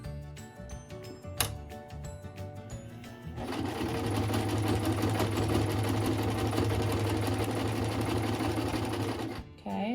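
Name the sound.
sewing machine stitching a t-shirt quilt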